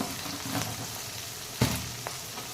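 Oil sizzles steadily in a pan as turmeric and rock salt are sautéed for a Tamil tomato gravy, with a brief sharper clatter midway and no talking.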